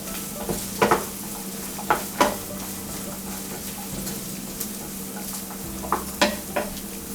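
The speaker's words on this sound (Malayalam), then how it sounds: "ഇത് ചെറുതായിട്ട് കളറ് മാറി തുടങ്ങുന്ന സ്റ്റേജ് വരെ നമുക്ക് ഇളക്കണം" Onions frying in a pan are stirred, with a steady sizzle underneath and a handful of sharp spoon scrapes and clacks against the metal, close and clear.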